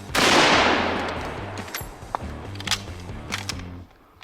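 Gunfire aimed at a cast iron Peerless 2300 transmission: a loud opening blast with a long decaying echo, then a rapid series of sharp shots with metallic ringing and scattered smaller cracks, no talk.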